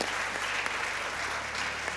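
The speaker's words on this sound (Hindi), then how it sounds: "कराची के लिए तालियां होनी चाहिए।" Steady applause from a cricket crowd cheering Karachi Kings during a PSL 2025 match, a dense continuous wash of clapping under a low broadcast hum, with no voices standing out.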